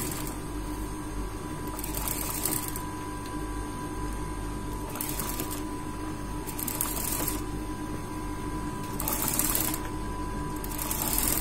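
A sewing machine stitches piping onto a boat neck blouse, running in four short, whirring bursts between stretches of quieter mechanical hum and room noise.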